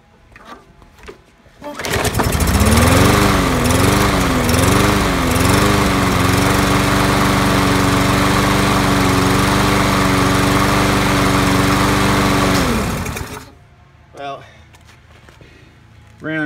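A Troy-Bilt TB110 lawn mower engine catches after a pull, with a brief uneven wobble before it settles into a loud, steady close-up drone for about eleven seconds, then cuts off. Someone speaks briefly before and after.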